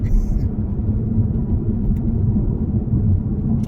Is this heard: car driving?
yes